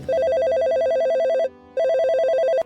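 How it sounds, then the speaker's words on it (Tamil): A desk telephone in an office rings with a steady electronic trill, two loud, close bursts separated by a brief pause, with no voices present. "மேசையில் இருக்கும் டெலிஃபோன் அடிக்கின்றது"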